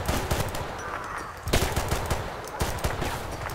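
Rapid bursts of automatic gunfire crackle continuously in the video game Battlefield: Bad Company 2, with dense overlapping shots and a few louder cracks.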